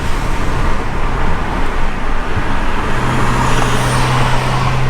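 A car pulls hard in third gear on a tuned transmission, a loud, steady broadband engine and road roar with a low droning tone that holds throughout.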